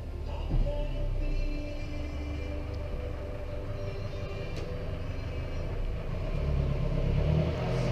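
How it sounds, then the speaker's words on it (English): An ice cream van drives past on the street, giving a continuous low engine rumble that stays fairly steady throughout with no clear chime. "Look at the ice cream van now."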